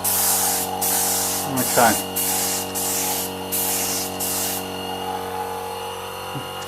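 A helmet being spray painted from about 100mm away, following its contours, with a series of loud, steady hissing bursts separated by brief pauses, then a quiet background; a voice speaks briefly partway through.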